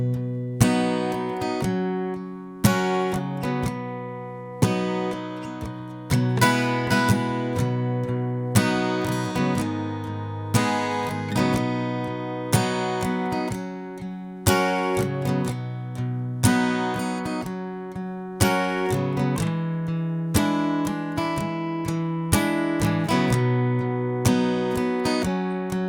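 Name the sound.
guitar playing verse of a song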